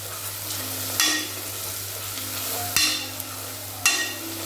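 Coconut, ginger, garlic and chili masala sizzle in a pan for a mustard pea-and-cauliflower dish, with a steady fry under three sharp scrapes of a spoon against the pan at intervals.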